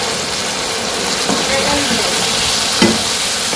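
Green chilies frying in a pan on a village cooking setup, a loud continuous sizzle and hiss with a couple of stirring clatters.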